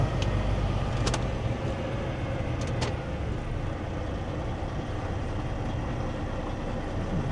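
A tractor pulling a spreader runs steadily, its broad, continuous engine drone close and loud throughout, with a couple of brief sharp clicks over the rumble.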